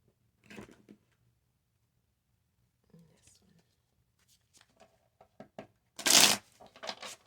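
A tarot card deck is handled and shuffled up close, with scattered soft rustles and taps followed by one loud riffling burst, amid quiet whispered speech.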